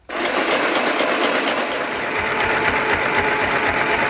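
A sewing machine stitching a hem runs steadily and close by, its needle whirring in a fast continuous rhythm with no pauses and no voices.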